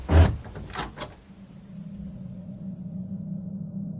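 A door opens with a couple of sharp knocking clunks in quick succession, followed by a low steady rumble that could be rain outside.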